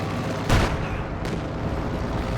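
Strafing-run gunfire in Company of Heroes 2: a sharp, loud burst of automatic fire lands early, then a second fainter burst follows a moment later over a steady battlefield rumble.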